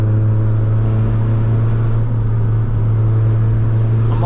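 A Honda-style VTEC car engine drones loud and close while driving a sunny B road, a steady low cabin rumble with no voices.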